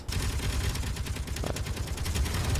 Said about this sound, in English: Guns are shooting down meteors, it's pretty sweet.